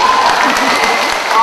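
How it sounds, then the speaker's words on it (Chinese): An audience at a 2013 Sichuan University chemistry school graduation gala breaks into loud applause, a brief, dense burst of clapping from a crowd close by. "请大家鼓掌。"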